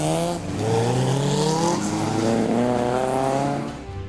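Cars race around a parking lot at a motorsport gathering with rally, classic and modern cars, tires squealing in long wavering screeches over revving engines, close and loud for a few seconds.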